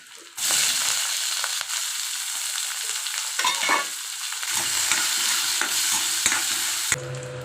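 Green chilies, onion and curry leaves stir-fried in a hot tempering with chana dal, a steady loud sizzle and frying crackle with scraping stirs, close and continuous without speech.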